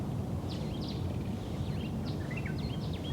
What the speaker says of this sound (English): listen to the sounds around you, like these beautiful birds chirping